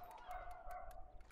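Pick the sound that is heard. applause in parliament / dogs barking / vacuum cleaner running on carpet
dogs barking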